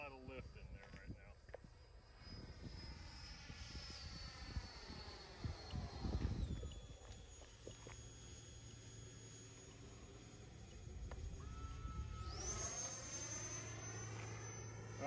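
Turbine whine of an E-Flite 90mm Viper Jet RC model jet flying overhead, a steady high-pitched roar that rises and falls in pitch as it passes, with a person talking over it.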